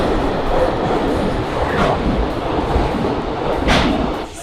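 A train in Japan rumbles steadily from inside the carriage, with loud, continuous noise and faint clicks of wheels over the track.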